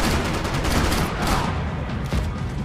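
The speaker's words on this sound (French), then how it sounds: "On va continuer avec le fusil à pompe. Un coup, deux coups..." Shotgun blasts in Max Payne 3 during bullet time, with loud, heavy shots that run together under a constant roar of game noise.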